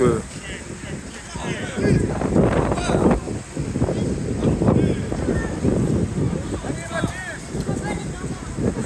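Strong gusting wind buffets the microphone at an outdoor football pitch during an under-12 regional match, rumbling unevenly beneath near-constant commentary.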